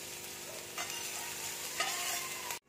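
Onion frying lightly in hot oil with chilli flakes, a close steady sizzle with a couple of stirring scrapes, no voices, ending abruptly.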